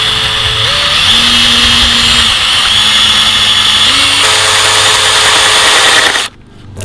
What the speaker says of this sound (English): we're gonna keep drilling